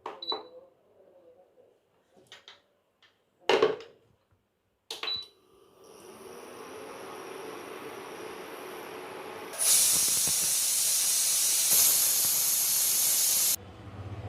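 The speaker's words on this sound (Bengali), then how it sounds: "প্রেসার কুকারে 4 থেকে 5টে সিটি দিলেই আলু সেদ্ধ হয়ে যাবে।" A pressure cooker boiling potatoes on an induction cooker, with a few clicks and knocks at first, then a steady hiss that swells into a loud, harsh steam whistle before cutting off.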